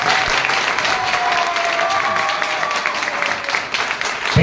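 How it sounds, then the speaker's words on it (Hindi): Seminar audience applauding new guests: dense, steady clapping from a crowd throughout, fairly loud and continuous with no talk over it. "मैं चाहूंगा कि हमारे नए गेस्टों के लिए जोरदार तालियां"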